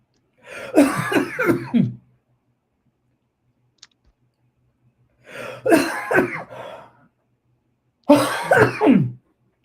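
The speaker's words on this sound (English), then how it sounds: "I've had this cough for about a week" Three separate bursts of harsh, rattling coughs, each lasting a couple of seconds, close by, with quiet pauses between them.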